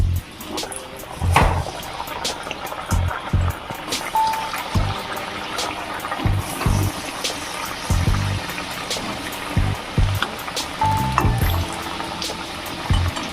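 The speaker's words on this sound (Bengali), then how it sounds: "এবার ভেজে নেবো তেলে দিয়ে দেবো" Palm gokul pitha frying in hot oil, a bubbling crackle under repeated soft knocks and clatters from handling nearby, with no speech.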